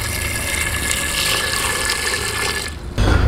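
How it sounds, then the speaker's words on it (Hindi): About a liter of water pours into a cooking pot for Hyderabadi village-style ragda chaat, a loud steady gushing fill close by that cuts off abruptly near the end, with no talking. "इसमें हम तकरीबन 1 लीटर पानी डाल देंगे।"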